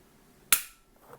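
Single sharp, dry click from the polymer trigger of a Shadow Systems CR920X pistol as it breaks during dry fire, close and alone, followed by faint handling noise.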